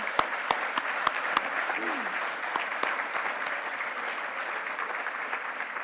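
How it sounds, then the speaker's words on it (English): Audience applause at an awards evening honoring high school teachers, a dense, steady wash of clapping from a crowd with a few sharp nearby claps standing out at the start. "Let's hear a round of applause for all of the high school teachers honored here this evening."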